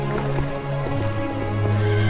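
A horse in the video game Dark Messiah of Might and Magic gives a loud, close, drawn-out whinny over clopping hooves.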